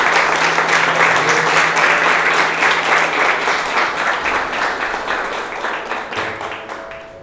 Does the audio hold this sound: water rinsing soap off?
no